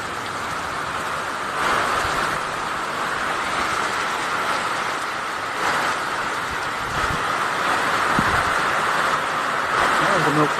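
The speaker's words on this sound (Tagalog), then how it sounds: "Ang lakas ng ulan. Tsaka hangin." Strong storm wind and heavy rain, a constant loud rushing wash with repeated gusty surges and a few low thumps, no voices.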